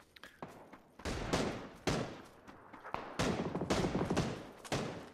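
An M249 machine gun fires in PUBG, loud bursts of rapid automatic shots separated by short pauses, with booming reports and echoing tails.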